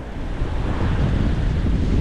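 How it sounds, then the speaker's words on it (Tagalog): Strong ocean waves wash against an island shore in a steady, loud roar, with wind buffeting the microphone. "Palakas ng palakas, palakas ng palakas ang alon"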